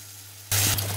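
Water poured into a pan of sizzling, well-fried chicken for biryani: after a quiet hum, a loud broad hissing splash bursts in and holds steady, close and alone with no talk.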